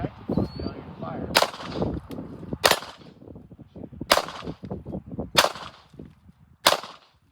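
Citadel Centurion CT9 pistol fired outdoors, five loud sharp shots spaced roughly a second and a half apart, each cracking over a steady rumble of background noise and movement.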